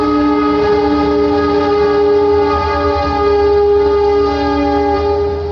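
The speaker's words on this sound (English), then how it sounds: "when train moves, we get the sounds here in the school" A train passing near a school, with a loud, steady horn or whistle tone holding for several seconds over a rumbling low-end wash, close and continuous, with no talking.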